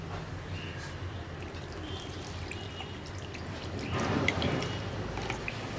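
Water poured into a homestyle Kerala fish curry with fenugreek, a soft, steady trickle and splash close by that grows fuller toward the end, with no talking.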